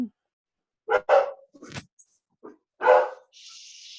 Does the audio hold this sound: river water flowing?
no